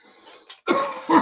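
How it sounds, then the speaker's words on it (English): A short, harsh smoker's cough sounds close by, breaking into two bursts after a faint breath. "I don't like the cough."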